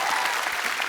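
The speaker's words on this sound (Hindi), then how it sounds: "ठोको ताली।" A studio audience claps at a TV comedy show, The Kapil Sharma Show, with dense, loud, continuous applause filling the whole short moment.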